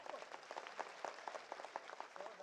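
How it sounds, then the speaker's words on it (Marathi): A rally audience at an Annabhau Sathe event in Rani Bagh, Byculla, breaks into applause, heard as faint, distant scattered clapping from a crowd. "जोरदार टाळ्या"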